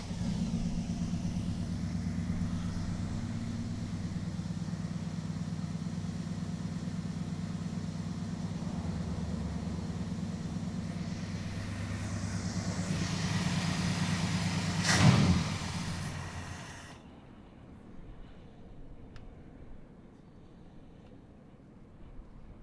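A car engine runs steadily at a raised idle after a fast idle screw adjustment in a home garage, a moderate droning hum with a sharp burst near the end before the sound drops away.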